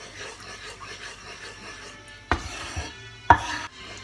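Corn and coconut milk mixture for Thai corn tako being stirred in a pan over low heat: soft scraping and rubbing strokes, quiet and close, with two sharper utensil knocks against the pan near the end.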